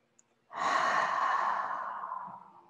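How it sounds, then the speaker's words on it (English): A slow, deep breath drawn during a yoga stretch, one long airy exhale lasting about two seconds that fades gradually, close and alone with no talking. "Breathe it in. Breathe it out."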